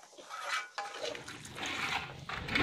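Water poured into coconut milk (santan) while preparing beef rendang, a steady liquid pouring and splashing that runs close and continuous for a few seconds with no talk over it.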